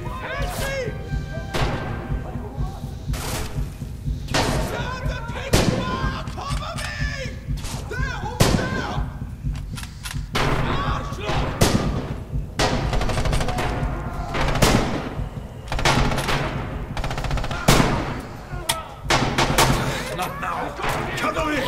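Blind gunfire in Red Orchestra 2 crackles in a long, dense run of loud shots and bursts over a battle din, with voices shouting through it.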